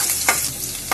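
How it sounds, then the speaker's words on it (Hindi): Garlic frying in hot oil for honey chilli potato, a loud steady sizzle with two brief stirring scrapes, close and with no voices. "अब हम उसमें सबसे पहले लहसुन डालेंगे और इसको थोड़ी देर पकने देंगे।"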